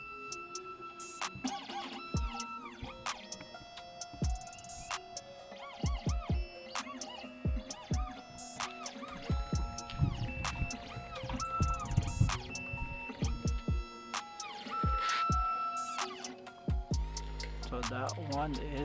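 An Xhorse Dolphin XP-005 key cutting machine runs its calibration, giving off rhythmic electronic beeps, whirring stepper-motor movements and small mechanical clicks in repeated sequences, close by, with someone talking over parts of it.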